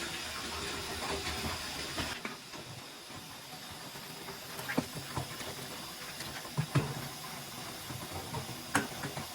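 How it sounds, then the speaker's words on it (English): Hot water pours into a boiling pot holding a skull being cleaned for a European mount, a steady hissing rush near the mic with a few small knocks and clinks, no talking. "let's fill up the boiling pot with some hot water"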